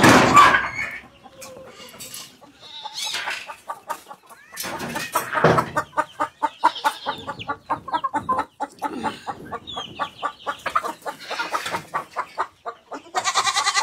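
Farmyard chickens, likely laying hens, cluck in a steady run of short repeated calls through much of the stretch, with scattered louder squawks and bird calls near and around them and no talk.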